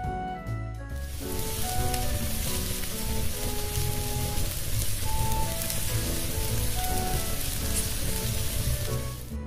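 Sliced onions sautéing in a pan for Filipino bistek tagalog give off a steady, dense sizzle with crackling pops that holds evenly from start to finish, close and fairly loud, with no talk over it.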